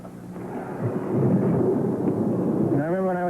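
Thunder rumbling through a storm at night, a long low roll swelling and sustaining, with a voice speaking briefly near the end.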